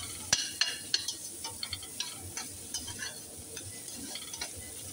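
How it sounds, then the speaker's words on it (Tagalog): Onions sautéed in a pan for Arabian jereesh, a steady soft sizzle broken by repeated sharp scrapes and clicks of a utensil stirring against the pan, fairly close and with no talking. "igisa na natin yung ating sibuyas"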